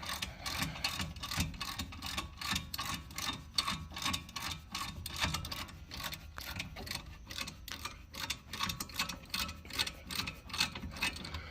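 Ratcheting wrench unscrewing the brake caliper bolts on the rear brakes of a Ford Focus, a rapid run of close metallic clicks repeating steadily throughout with no talking.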